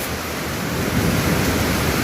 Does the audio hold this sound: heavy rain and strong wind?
yes